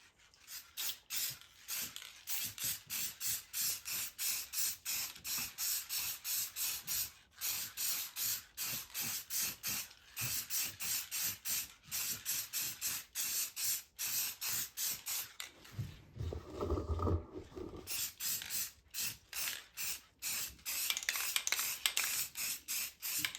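A spray gun lays a second clear coat on a Grand Prix pinball playfield in rapid, repeated short hissing bursts, close and rhythmic, with a brief pause and a low thump midway.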